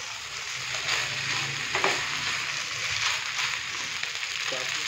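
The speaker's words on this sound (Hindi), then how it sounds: "2 चम्मच की मदद से हमने इसको अच्छे से मिक्स करना है" Egg noodles being tossed and mixed with two spoons in a hot pan, a steady broadband sizzle with scraping stirs running through the whole stretch and brief louder clinks near the middle.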